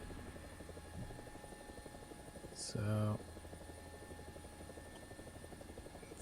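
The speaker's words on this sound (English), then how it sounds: "Yeah, it's like the German helicopter." A British attack helicopter in a video game drones steadily with a constant rotor and engine hum, and a brief louder burst partway through, while a person speaks briefly over it.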